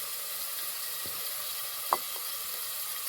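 A steady, even sizzle fills the clip as a little water is added to hot oil and spices in a pan, with a couple of faint clicks of a utensil against the pan.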